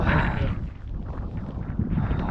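Wind gusting over an exposed mountain trail on the Netravati peak trek, a steady low roaring buffet against the microphone that swells at the start and end, with no voices.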